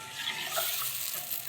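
Mustard-poppy fish curry gravy for mustard hilsa bubbling gently in a pan, a steady close, soft sizzling simmer with no talk over it.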